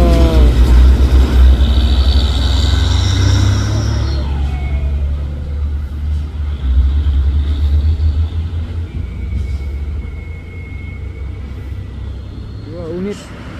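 A Hino truck rolls downhill while an orange tronton truck prepares to climb, producing a heavy low engine rumble that swells and fades, with someone talking over it throughout.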